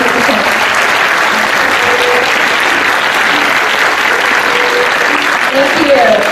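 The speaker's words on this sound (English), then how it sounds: "Once again, a big round of applause for all of our participants." Loud, sustained applause fills a hall as a large audience claps for student participants at an international science fair opening ceremony, a dense continuous roar with faint voices near the end.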